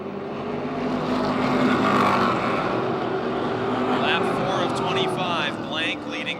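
Stock cars race at Motordrome Speedway, a continuous roaring engine drone from the pack with a passing car sweeping by near the end, under a commentator's voice.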